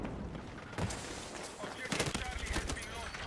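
Dense, overlapping automatic gunfire and explosions from the video game Battlefield 6, with sharp bursts over a busy mix of game sound.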